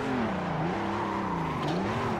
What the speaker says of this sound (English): All right, we're going to clutch kick this way.